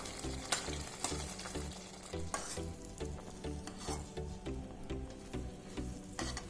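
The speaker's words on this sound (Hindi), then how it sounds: "और अब इसको लो फ्लेम पे 2 से 3 मिनट तक अच्छी तरह पकाना है।" Upma cooks over a low flame, giving a soft steady sizzle broken by rhythmic spoon scrapes and taps as it is stirred, close and fairly quiet, with no speech.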